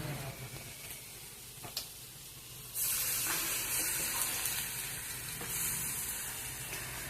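Chicken thokku cooks in a pan with tomatoes, a soft steady sizzle that swells into a louder, continuous frying hiss as chicken is added, with a few clinks of stirring.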